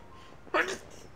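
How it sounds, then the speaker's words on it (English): A single quick sneeze in the middle of a Tears of the Kingdom game session, sharp and brief against a quiet background. "Oh, why did that sneeze hold back for a minute?"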